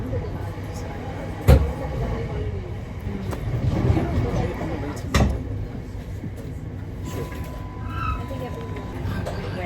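A train runs with a steady low rumble and clatter, broken by a couple of sharp knocks, while someone talks over it at close range.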